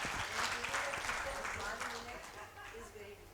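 Applause from a conference audience for a panelist at a happiness conclave in Bengaluru, a dense spread of clapping that gradually thins out while a voice talks over it.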